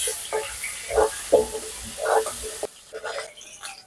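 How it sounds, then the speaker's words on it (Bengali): Potatoes frying in leftover fish-frying oil with salt and turmeric, a steady close sizzle and hiss with a few louder spatter bursts, fading quieter near the end. "এখন আলুগুলো একটু লাল লাল করে ভেজে নেব"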